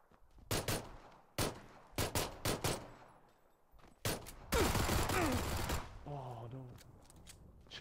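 Gunfire in PUBG on Xbox One: sharp single shots crack at irregular intervals, then a sustained rapid burst of automatic fire, with a person talking briefly near the end.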